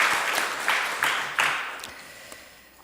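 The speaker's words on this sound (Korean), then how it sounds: "우리 수고하신 모든 분들 위해서 우리 한번 함께 박수를 하나님께 영광 돌리도록 하겠습니다." A church congregation at a Sunday morning service claps in a few short bursts of applause that fade away quickly, fairly distant in a roomy hall.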